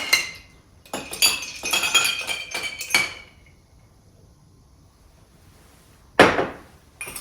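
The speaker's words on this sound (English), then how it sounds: "And then add my ice on top of that." Ice cubes clatter into a Sazerac cocktail glass in a run of bright clinks and rattles, followed after a pause by one more sharp clink, heard close with no talking.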